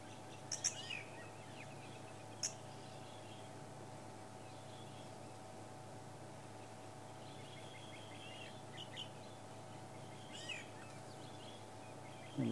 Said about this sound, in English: And lots of birds are following them.